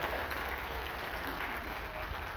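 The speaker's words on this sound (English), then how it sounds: "Please give a big round of applause for Leo." Faint, distant applause from a theater audience aboard the MSC Meraviglia cruise ship, a soft continuous patter of many hands with no single claps standing out.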